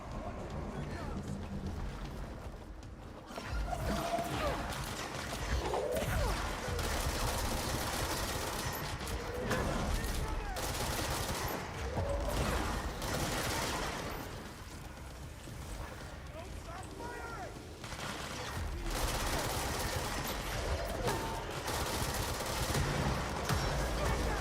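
Video game gunfire, bursts of automatic shots and single cracks layered over a dense, loud battle soundscape that runs throughout, with a voice speaking over it.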